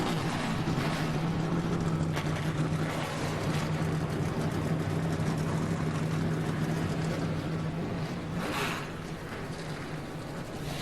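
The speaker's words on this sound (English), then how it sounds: "Drivers, start your engines." Stock car engines at a NASCAR race, the 2012 Fred's 250, rumble together in a loud, steady, continuous drone with a low hum, easing slightly near the end.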